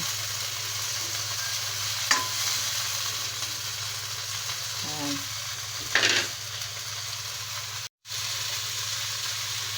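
Squash and okra stir-fried in a pan with oyster sauce make a continuous close sizzle, broken by a few scraping stirs of the spatula and one brief dropout near the end.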